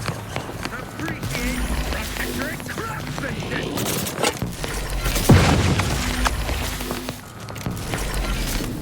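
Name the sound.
explosion in the video game The Outer Worlds 2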